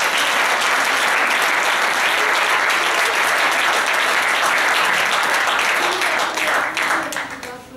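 Loud, dense applause from a theatre audience after an amateur troupe's play, sustained and close, fading toward the end as scattered voices come through.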